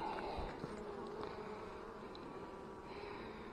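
Honey bees buzz around an open hive during a spring inspection, a steady, close, dense hum that carries on with no talk.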